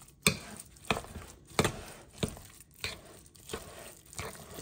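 Saltfish fritter batter being mixed with flour in a bowl, heard as six evenly spaced, sharp, close scraping strokes of a utensil against the bowl under a steady low rustle, with no talk.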